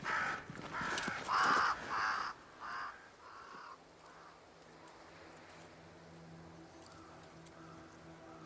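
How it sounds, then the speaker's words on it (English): Crows caw in the Banishers: Ghosts of New Eden video game, a burst of several loud harsh calls in quick succession at the start that then thin into fainter, distant caws over a low ambient background. "Crows. They flock to that great tree up there."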